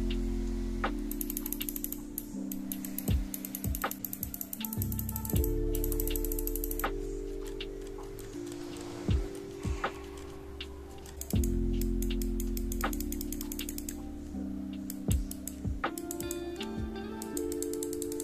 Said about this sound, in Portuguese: Eu vou clicar aqui para você ver, ouvir o som primeiro dos botões.